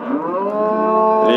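A cow at a livestock market lets out one long, loud, close moo that holds steady, then cuts off abruptly at the end.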